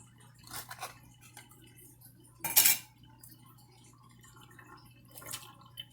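A utensil stirring a fruit mixture in a bowl, soft scraping with one sharp clatter of metal against the dish partway through and a lighter clink near the end.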